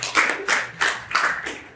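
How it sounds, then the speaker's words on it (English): Scattered hand clapping from a small audience at a graduation ceremony for 8 to 12 year olds, a few uneven bursts of claps at close range with no talk over them. "A round of applause for us."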